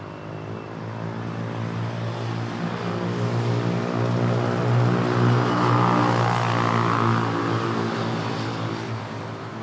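Cebu Pacific Airbus A321neo airliner arriving and landing at Manila airport, a loud sustained engine drone with strong tonal whine swelling as it passes close, then easing off.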